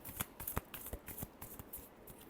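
Tarot cards are shuffled in a quick run of crisp papery riffles and taps, close and fairly quiet, with no voices.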